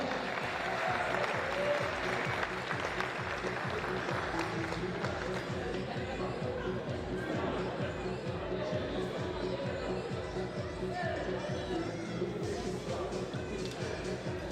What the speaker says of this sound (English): Round of applause for Jorge, who's not here.